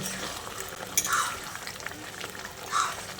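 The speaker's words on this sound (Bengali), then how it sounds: "তারপর আবারও ভালো করে মিশিয়ে নিচ্ছি" Potato curry with curry leaves being stirred in a pan, a continuous soft sizzle overlaid with scraping spoon strokes and occasional clinks against the metal, close and steady with no talking.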